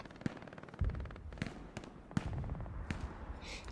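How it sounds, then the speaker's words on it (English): Grenades going off in the online shooter Hell Let Loose during a large 18v18 match, several sharp blasts spaced across a few seconds over a busy battlefield din. "Grenades going off"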